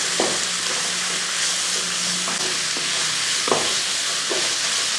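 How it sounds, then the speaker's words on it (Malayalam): Sliced onions fry in a pan for a Kerala-style duck curry, a continuous sizzle and hiss broken by a few light scraping clicks of a spoon stirring. "ആ സവോള കൂടി ഇതിൻ്റെ കൂട്ടത്തിൽ കൊടുക്കാം. ഇനി ഒന്ന് ഇളക്കി കൊടുക്കാം."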